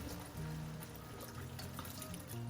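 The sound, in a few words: splash of white wine poured into a pan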